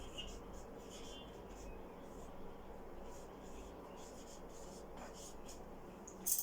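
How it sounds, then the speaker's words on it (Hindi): Marker or chalk scratches and rubs across a classroom board as a Hindi grammar definition is written out, a faint, steady scraping under quiet room noise. "तो मैं आपको इसकी परिभाषा लिख रही हूं।"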